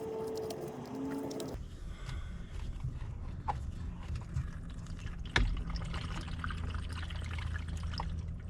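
Water pours and trickles in the cramped crawlspace beneath a duplex during a shut-off valve install, a steady wet wash with a faint thump partway through.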